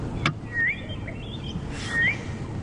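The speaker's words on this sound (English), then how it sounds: "And the bird you can hear going, southern boo-boo." A southern boubou, a kind of shrike, calls twice on a safari game drive, two clear rising whistled notes about a second and a half apart over a low background rumble.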